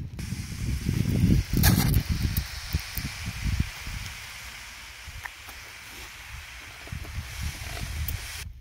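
A sprayer mists coffee plants after fertilizing, giving a hissing spray burst near the start amid rustling and low thumps, then settling into a quieter, steady background.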